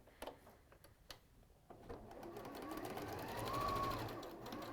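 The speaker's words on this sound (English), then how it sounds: "it's a 1/4 inch seam, and of course you can chain piece" A sewing machine stitching a quarter-inch seam while chain piecing fabric, starting with a few short bursts and clicks and then running in a steady, quiet, close whir that builds slightly.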